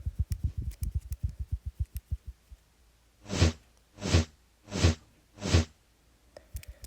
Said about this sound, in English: Now when you click the check mark with your arrow thing, arrow sound